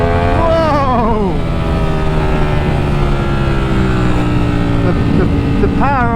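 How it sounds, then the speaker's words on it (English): A Ducati Streetfighter V4S motorcycle engine revs hard and accelerates, its pitch climbing through gear changes, loud and close with heavy wind rumble, and a voice briefly exclaims near the start. "The power on this bike is just instant. That low down torque is just phenomenal."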